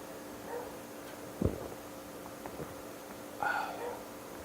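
A dog gives a single short bark followed by brief whimpering yips, fairly close, over a quiet room tone.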